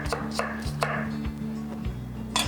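A knife roughly dices half an onion on a board, giving a run of distinct, fairly close chopping knocks at an uneven rhythm, with no talking over them.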